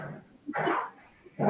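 A dog barking at close range, two short loud barks with a small yelp between them, with no talk over it.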